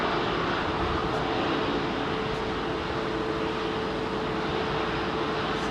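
A jet airliner climbs away from Heathrow's runway 27R after departure, its engine roar a loud, steady broadband rumble with a faint tonal hum, continuous and unbroken across the whole stretch.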